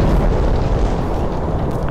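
Lightning bolts summoned by a repeating command block in Minecraft Bedrock Edition on PS4 produce a loud, continuous rumbling thunder with booming crackles. The sound is dense and sustained, with no speech over it.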